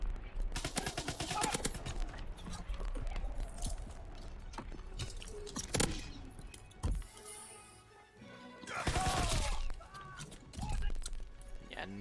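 Bursts of primary-weapon gunfire in Call of Duty WW2, rapid crackling shots clustered in several volleys across the stretch, with loud impacts and busy game noise in between.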